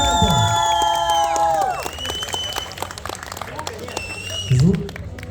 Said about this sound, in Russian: Давайте за молодежь. Еще раз аплодисменты.